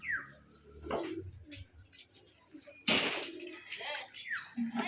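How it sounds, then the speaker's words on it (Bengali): Rajshahi Giribaz pigeons at a colour-matched loft coo softly in a quiet, close setting, broken by a brief loud rustle or flap midway and a few higher chirps. "আরো কিছু কবুতরের বাজি দেখবো।"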